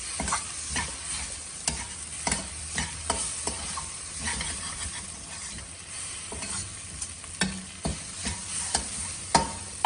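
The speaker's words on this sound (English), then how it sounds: "I'm just going to saute it for 1 or 2 minutes." Something sautés in a pan during a home dinner recipe, a soft steady sizzle punctuated by frequent sharp clicks and scrapes of a spatula stirring, fairly quiet and with no talk.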